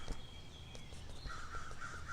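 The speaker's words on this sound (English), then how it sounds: "listening to the crow talking to me" A crow caws a few times at a distance, faint over low background rumble.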